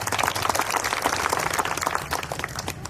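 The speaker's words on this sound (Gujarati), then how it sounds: "એકવાર બધા માટે તાળીઓ આપણે થઈ જાય" Applause from a rally audience during a Bharuch Lok Sabha campaign yatra, dense sustained clapping from many hands, fairly close and steady at even loudness.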